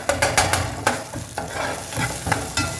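Beef gravy masala with green chillies frying in oil for a Chettinad beef curry, a steady crackling sizzle with repeated stirring scrapes at a close, moderate level and no talking.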